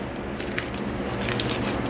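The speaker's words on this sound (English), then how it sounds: "And give it a crumple." A sheet of paper wrapped around a finger is crumpled, giving a close, continuous crackling rustle for about two seconds.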